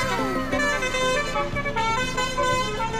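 A telolet bus horn in the Car Driving Indonesia game, a DHL-free PO Kiki Trans JP3 bus, plays repeated melodic honking tones over engine rumble, loud and near.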